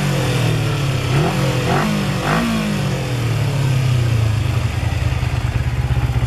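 A warmed-up 2006 Kawasaki Ninja 250R (EX250F) parallel twin revs three times in quick succession from idle, each blip rising and falling sharply, then settles back to a steady, close idle.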